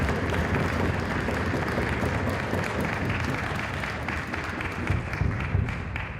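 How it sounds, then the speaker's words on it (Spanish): An audience applauds a chaplain with steady, dense clapping that holds at an even loudness for about six seconds, close and full, with no voices over it. "Un aplauso para el capellán."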